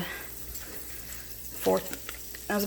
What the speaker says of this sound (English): I'm going to drop some butter in there